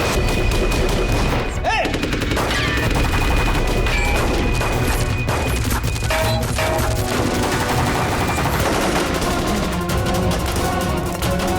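Rapid bursts of gunfire crack through a TV crime drama shootout, dense and loud with repeated shots and booms over a steady music score, with brief shouted voices mixed in.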